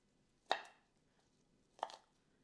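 Chili peppers for hot sauce are being roughly chopped with a knife on a board, giving two distinct close, sharp chops separated by a pause.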